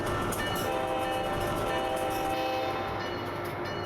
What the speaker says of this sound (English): And let's go ahead and move this train.